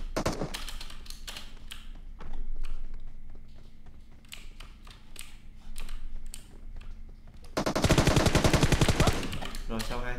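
Rapid bursts of gunfire from the battle royale game PUBG Mobile, repeated volleys firing through much of the stretch with a louder, denser barrage near the end, while players talk over it.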